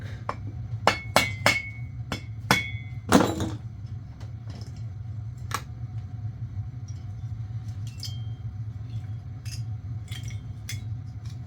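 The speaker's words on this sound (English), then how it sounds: "here's my dead blow. Get a nice gentle whack." A dead blow hammer strikes a cylinder on a pioneer farm saw with a few spaced whacks, one noticeably heavier thud among them, over a steady low hum in a workshop.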